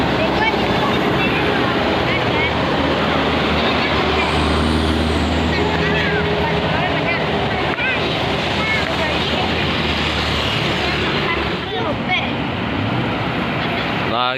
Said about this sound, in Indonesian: Lagi bus pariwisata.